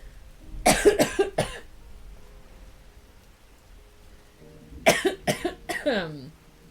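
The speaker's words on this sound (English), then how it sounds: "Sorry, laughing makes me cough" Two bursts of close, harsh coughing, each a quick series of three or four coughs, separated by a few seconds of quiet with light rain-like background.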